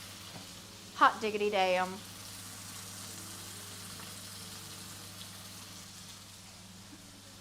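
Beef searing in a hot pan for Beef Wellington makes a soft, steady sizzle that runs the whole length, with a brief exclamation from a speaker partway through.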